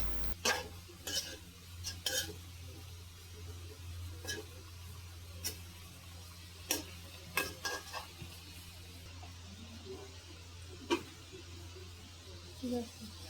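Okra and shrimp curry being stirred in a pan, with scattered utensil clinks and scrapes at an uneven pace over a steady low hum, fairly quiet throughout.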